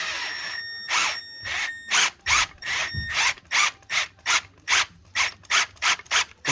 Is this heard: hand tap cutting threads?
yes